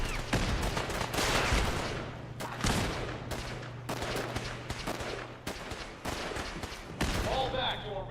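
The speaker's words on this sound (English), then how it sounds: "I hear a turret" A turret fires in Fallout 4. Rapid repeated bursts of automatic gunfire come at close range, with short gaps between volleys and a low steady hum beneath, and a voice speaks briefly near the end.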